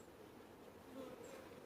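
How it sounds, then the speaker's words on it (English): Honeybees hum around a five-frame nuc box during a hive installation, a faint, steady buzz with a few individual bees droning slightly louder as they fly near. "We have bees on the lid."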